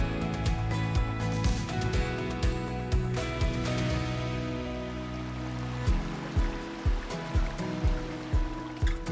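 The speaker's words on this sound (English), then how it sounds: "the water flows smoothly and creates sounds like meditation music" Spring water running through ancient stone channels at a South American ruin, a steady trickling flow with soft rhythmic splashes and low gurgling pulses that strengthen in the second half.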